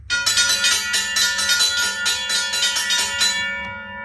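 A battery-powered Modern Industries railroad crossing bell rings loud and close, striking in a fast steady rhythm for several seconds before stopping and letting the metallic tone fade out.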